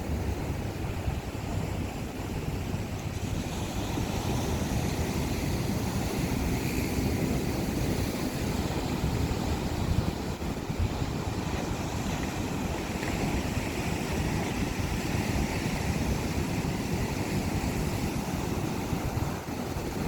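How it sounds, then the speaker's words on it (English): Ocean waves crash on a beach near a sailboat wreck in Tonga, a continuous loud roar of surf and wash with steady wind, no voices heard throughout. "Those are one of my favorite things to film, are waves that go crashing."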